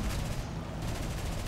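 Rapid gunfire rattles around the player's plane in the War Thunder video game, a dense, continuous burst of shots heard at moderate level with no talk.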